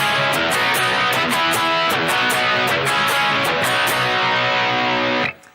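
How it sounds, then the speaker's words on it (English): Guitar break plays loud and distorted, with a steady rhythm of sharp strummed hits, then cuts off abruptly near the end. "there's a guitar break again, and that guitar break sounds like this."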